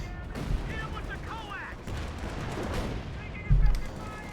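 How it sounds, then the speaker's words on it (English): Artillery barrage and MG42 machine-gun fire in the video game Company of Heroes 2, a dense, continuous roar of gunfire and blasts with a heavier thump near the end. "They have a potential incoming American artillery barrage."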